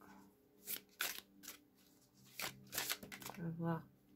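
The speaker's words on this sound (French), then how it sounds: "On va prendre une carte centrale pour essayer de relier tout ça." A deck of oracle cards is shuffled with a rapid series of papery riffles and flicks, soft and close, interrupted by short bursts of talking near the end.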